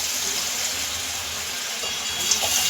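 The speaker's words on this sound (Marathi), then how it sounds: "आता आपण हे डीप फ्राय करून घेऊया." Potatoes deep frying in hot oil for street-style potato chilli give a steady, dense sizzle with no pauses, loud and close, with a faint rise near the end.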